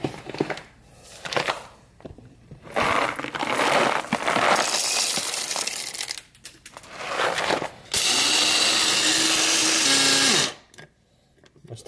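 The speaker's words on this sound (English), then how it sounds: "We're just going to put in enough beans to get to that line, and then we'll grind them up." An electric coffee grinder chopping whole beans for French press coffee, loud whirring bursts that start and stop several times, ending in one long sustained grind, with quieter handling sounds between.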